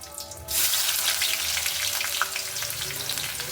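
Onion and carrot drop into hot oil that already holds mustard seeds and curry leaves, for a sago upma. A short quiet start breaks into a loud, continuous crackling sizzle that holds steady.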